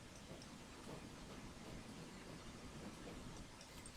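A freight train in Transport Fever 2 rolls steadily past, a dense, unbroken rumble with rail clatter staying loud throughout.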